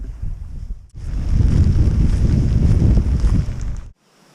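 A loud blast of strong wind buffets the microphone for about three seconds on the Bohus Trail in Sweden, roaring and rumbling, then cuts off abruptly to near quiet.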